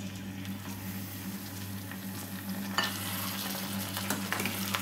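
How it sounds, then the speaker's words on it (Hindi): Chicken, about 250 grams, sizzling and frying in a pan of salan, a steady crackle with soft stirring scrapes and a sharper burst of spatter partway through. "ये 250 ग्राम चिकन था जो कि मैंने इसमें डाल दिया है"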